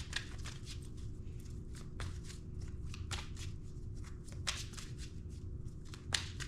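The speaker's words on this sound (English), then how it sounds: "keep shuffling" Tarot cards are shuffled in repeated quiet riffling bursts, soft papery flutters following one another at close range with faint background hum.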